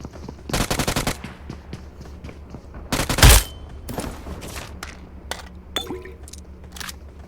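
Rapid automatic gunfire in the PUBG Mobile shooter game, bursts of sharp cracking shots in quick rhythm, then a louder heavy blast and scattered single shots, some near and loud, others fainter, with no talking.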